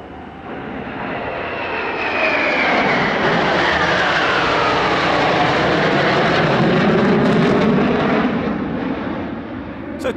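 A fighter jet rolls through a display pass at the LIMA Langkawi airshow, its loud, sustained engine roar swelling and sweeping in pitch as it passes, with no talk over it.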